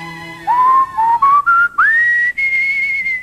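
A person whistles a classical tune by Vivaldi, clear and close, with notes gliding upward in short phrases separated by brief pauses.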